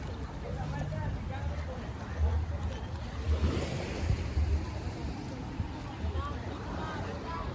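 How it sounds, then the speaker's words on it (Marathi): Sea waves washing near the Worli Sea Link in Mumbai, heard from a boat as a continuous rushing wash with low rumble and wind, moderately near and unbroken. "आणि एकदा लाटा बघा"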